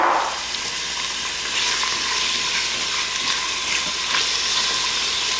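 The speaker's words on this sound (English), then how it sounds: "you hear that sizzle?" Steady, loud sizzling of one-inch pork chunks frying in a hot Instant Pot, a bright crackling hiss that continues without a break and with no voices.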